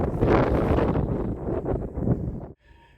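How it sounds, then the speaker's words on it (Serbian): Wind roars steadily across the open top of Varovnice hill, buffeting the microphone with a loud, rough rush that cuts off abruptly near the end. "Kažu da na varovnicama vetar nikada ne prestaje da duva."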